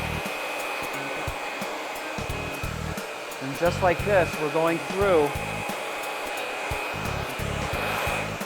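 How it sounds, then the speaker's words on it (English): A hair blow dryer runs continuously while hair is dried with a flat brush, a loud steady whir with a person speaking briefly over it midway. "we're allowing the blow dryer to follow the brush like so"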